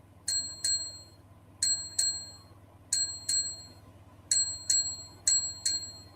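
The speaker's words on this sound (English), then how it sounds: "So this one is like just a normal school Bell." An app's school bell sound plays a clear, bright double ding, repeated in five evenly spaced pairs, each pair fading quickly over a low steady hum.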